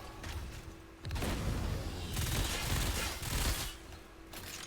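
Video game gunfire from Exoprimal, played on a GameSir Nova 2 Lite controller, rattles in rapid bursts of automatic shots with booming impacts, fairly quiet and separated by brief lulls.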